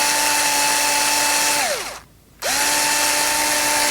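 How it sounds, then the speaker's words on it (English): A power drill boring a hole through resin whirs at a steady high pitch, spins down and stops briefly, then starts up again and keeps running, close and loud. "So pick your spot, drill your hole."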